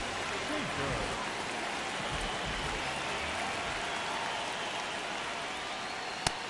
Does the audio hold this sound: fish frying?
no